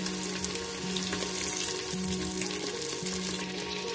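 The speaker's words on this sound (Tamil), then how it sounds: "இப்போ கடுகு போடுறோம். கருமளகா வாட்டு போடுறோம்." Mustard seeds and dry red chillies fry in oil for a brinjal chutney, making a continuous close sizzle with faint crackles. A low steady hum from the kitchen runs underneath, and nobody speaks.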